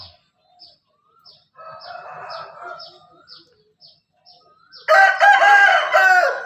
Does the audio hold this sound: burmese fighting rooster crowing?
yes